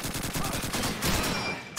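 Rapid gunfire in the World War II shooter Call of Duty 2, a dense burst of repeated shots from an automatic weapon, loud and continuous over about two seconds.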